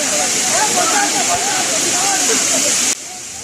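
A steady, rushing roar of the Richang waterfall in Khagrachari, Bangladesh, fills the scene, with faint voices underneath; it cuts off abruptly near the end.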